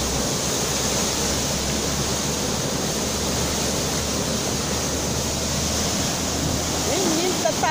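A burst pipe on the Adutora do Agreste water main, which failed during testing in Belo Jardim, Brazil, unleashes a loud, steady rushing roar of gushing water that holds without a break from start to finish.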